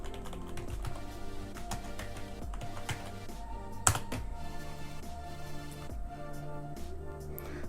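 Typing on a computer keyboard: a fairly quiet, irregular run of close key clicks and taps, with a sharper keystroke midway and no talking.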